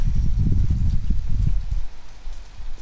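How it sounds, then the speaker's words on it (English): Heavy rain in the video game Detroit: Become Human pours close by, mixed with dense low rumbling and thudding patter that pulses unevenly throughout. "Get you out of the rain real quick."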